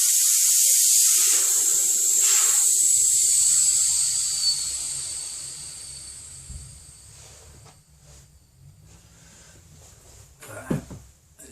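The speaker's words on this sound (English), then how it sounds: "Get the valve stem out, let the air out" Air hissing out of a motorcycle tire through the open valve after the valve stem is removed, a loud, close, steady hiss that slowly fades over several seconds, followed by quiet handling noises and a sharp knock near the end.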